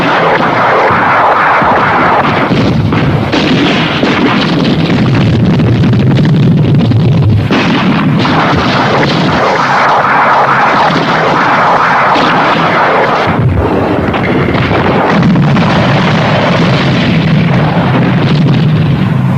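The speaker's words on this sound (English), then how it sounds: "the barrage will cause confusion and will obscure our fields of fire" Heavy guns and multiple-barreled rocket launchers fire a sustained artillery barrage, a loud, continuous roar of overlapping booms and rumbling blasts with a few sharper reports, no voices.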